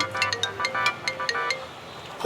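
A mobile phone rings and goes unanswered, its bright repeating electronic ringtone pulsing in short regular bursts, moderately loud in a quiet room with no talking over it.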